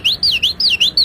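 A man whistles an imitation of an adakkakkili bird call: rapid, high, sweeping chirps repeated in a quick, loud rhythm, with no other sound.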